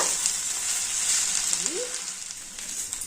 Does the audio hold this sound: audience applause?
no